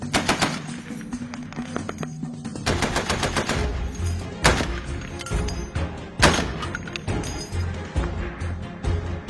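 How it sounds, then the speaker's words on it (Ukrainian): Several loud sniper rifle gunshots ring out in separate bursts, sharp cracks with rolling echoes, over a steady low rumble of background noise. "Постріл."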